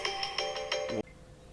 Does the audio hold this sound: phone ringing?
yes